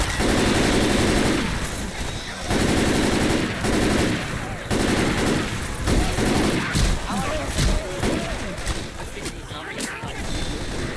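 Continuous rapid gunfire in the zombie shooter Left 4 Dead 2 during the Hard Rain campaign, dense bursts of automatic and single shots with crashes and impacts, loud and close, with a voice talking over the action.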